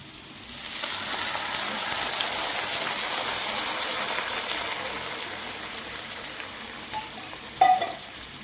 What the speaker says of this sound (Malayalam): ഞാൻ അതിനകത്തേക്ക് വെള്ളം ഒഴിച്ചു കൊടുക്കാം